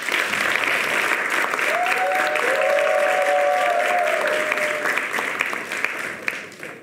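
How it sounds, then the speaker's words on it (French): A studio audience on a French talk show claps steadily to welcome guests, dense even applause that holds throughout and slowly thins near the end, with a brief sung or voiced tone rising over it midway. "On les accueille avec beaucoup d'applaudissements"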